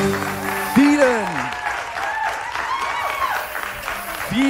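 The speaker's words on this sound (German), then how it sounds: "einen großen digitalen und analogen Applaus für den Moderator des heutigen Abends, Tobias Wollschläger" A theatre audience at a live improv comedy show in the BKA Theater claps in sustained applause, while a voice talks loudly over the clapping from close by.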